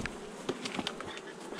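Honeybees buzz steadily around an open hive during an early-spring colony inspection, a close, continuous drone with a few louder passes of individual bees.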